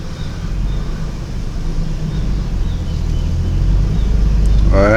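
An old $800 pickup truck with a manual clutch grinds out of the ruts it was parked in, a heavy low engine and rumble building loudly, with a voice coming in at the very end.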